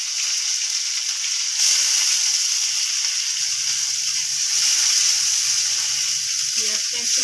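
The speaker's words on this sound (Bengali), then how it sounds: "পেঁয়াজটা একটু লাল লাল করে ভেজে নেবো।" Chopped onion and a broken dried red chilli fry in oil in a kadai, giving a steady, moderate sizzle throughout with a few soft stirring clinks near the end.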